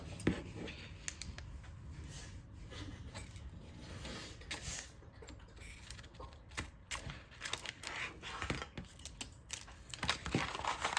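Scissors snipping across the top edge of a Cricut infusible ink sheet, a run of close, crisp cuts and paper rustles at low level, repeating unevenly and growing busier toward the end, with no talk.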